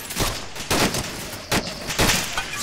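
Gunfire and explosive shots ring out in the Arma 2 World War II invasion mod, several loud, sharp reports in irregular succession, each with a ringing tail and close, punchy impact.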